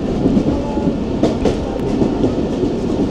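Tungipara Express runs fast along the track, heard loud from inside the carriage as a constant roar with rhythmic clickety-clack of the wheels and no voices.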